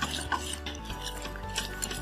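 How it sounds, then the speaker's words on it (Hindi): A spoon stirs tutti frutti into biscuit dough in a bowl, giving close, soft rubbing and scraping strokes with occasional light clinks against the bowl. "अब इसमें ऐड कर देंगे ये टूटी फ्रूटी। मिक्स कर लेंगे दोबारा से।"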